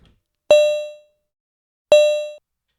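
Two separate bell-like FM tones from a Roland System 100 Model 101 synthesizer, each struck sharply and decaying over about half a second, bright and clean with silence between them.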